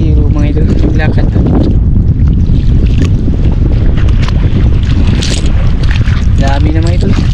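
Strong wind buffets the microphone at a shell-strewn beach, a loud, constant roaring rush with gusty swells, while someone talks over it at intervals.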